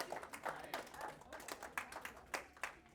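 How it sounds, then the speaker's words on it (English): Scattered clapping from a church congregation on a Sunday, fairly faint and uneven, with a few distinct sharper claps standing out. "Yeah, you can clap for that"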